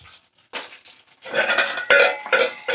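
Vegetables, spices, tomato and ginger-garlic paste being stirred in a pan for a Khasi Methi Chachari, with several short bursts of scraping and clinking.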